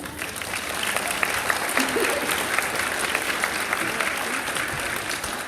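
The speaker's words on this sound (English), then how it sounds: "So give her a round of applause." An audience applauds a choreographer at a school dance class event, giving steady, dense clapping throughout at moderate distance, with a few voices mixed in.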